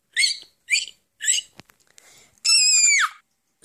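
A shrill, sustained cartoonish scream rings out for about half a second in a stop-motion scene, coming after a few short chirpy squeaks and a sharp click, loud and close with no talk over it.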